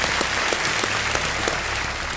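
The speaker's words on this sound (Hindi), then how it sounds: "तालियों के साथ" Studio audience clapping steadily to welcome a guest on an Indian quiz show, a dense, even wash of applause lasting a couple of seconds.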